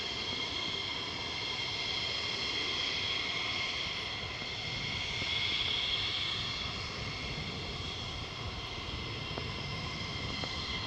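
A military jet at RAF Lakenheath roars past in a steady, loud, sustained engine whine and rush that holds for about eleven seconds, with no talking over it.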